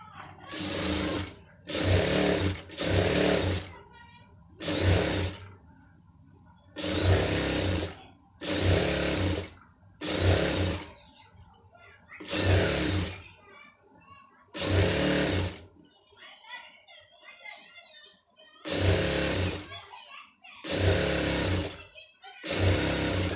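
A sewing machine stitches piping onto fabric in repeated short bursts of loud close whirring, separated by brief pauses in which a voice speaks quietly.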